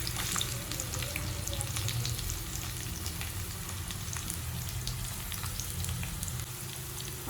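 Onions frying in hot oil, a continuous dense sizzle and crackle at an even, fairly quiet level throughout, with no voices.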